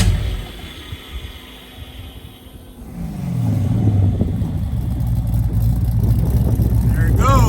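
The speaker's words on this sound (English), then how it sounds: "let me do a starter for you guys, so you can hear this exhaust" Chevy V8 swapped into a Porsche cranks over and fires up midway through, then settles into a loud, low exhaust rumble that stays close and steady, with a voice speaking briefly near the end.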